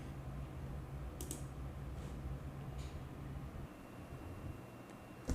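A computer mouse clicks a few times, soft and brief, with the clicks spaced about a second apart over a faint background hiss and a sharper click at the very end.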